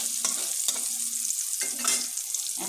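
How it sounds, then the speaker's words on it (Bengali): Pointed gourd pieces fry in a pan, a steady close sizzle of hot oil broken by several short scraping stirs spread through the stretch, with no voices. "দেখি আমার পটলগুলোর অবস্থা। এই তো প্রায় ভাজা হয়ে গেছে।"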